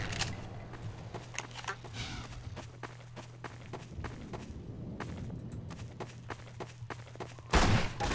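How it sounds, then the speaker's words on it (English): Shotgun blasts and skittering creature footsteps in the Half-Life 2 video game as the player fights antlions, with rapid clattering movement throughout and a louder, sharper burst of fire near the end. "They die pretty quickly to my shotgun."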